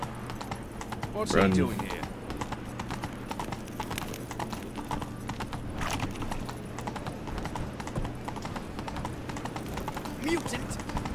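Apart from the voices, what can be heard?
horse Roach galloping in video game Witcher 3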